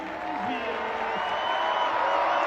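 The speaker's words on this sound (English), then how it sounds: "Roar the crowd as he comes on." A soccer stadium crowd at a U.S. Open Cup match between Charlotte FC and Orlando City SC roars steadily as a substitute comes on, a broad sustained wash of cheering with a commentator talking over it.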